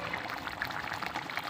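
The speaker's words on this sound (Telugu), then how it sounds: "తలకాయ మాంసం కూర ఉడుకుతుందండి." Goat head meat curry, with brain added, boiling in a pot: a constant low bubbling simmer heard close up with no talk.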